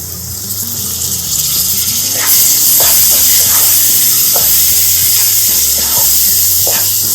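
Tomatoes drop into a sizzling egg keema mixture in a pan, giving a loud, steady frying hiss with a wet gush and scattered crackles and stirring clinks throughout.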